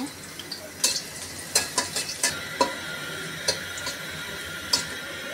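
Onion frying in a little hot oil in a karahi for tempering: a faint, low sizzle runs underneath while sharp stirring clicks and spoon taps against the pan sound at irregular intervals.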